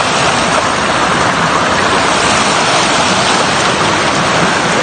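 Steady, loud broadband rush of water at Knife Falls in Bagong Silang, Cabanglasan, continuous and close with no breaks or voices.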